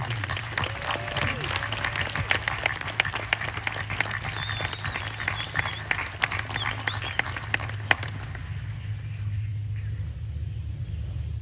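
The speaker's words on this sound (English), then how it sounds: "please join me in a round of applause for our Student Award recipients." Audience at an Army War College graduation applauds student award recipients, with dense clapping from a large crowd that keeps up for about eight seconds, then fades to a quiet room hum.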